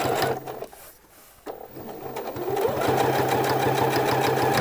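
A sewing machine stitches shirt fabric, running in a close, steady mechanical rattle with a brief pause early on before continuing at a quicker pace.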